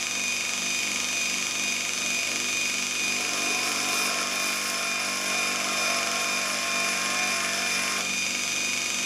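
Lathe tool bit held lightly against the side of a grinding wheel, giving a steady high-pitched whine and hiss of the spinning wheel throughout, with a brief shift in tone midway as the light grinding contact changes.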